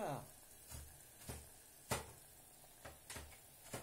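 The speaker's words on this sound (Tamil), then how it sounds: "நல்லா கொதிக்குது பாருங்க, எப்படி" Water boils in a pot for cooking rice, heard faintly as soft bubbling with occasional louder pops at irregular intervals.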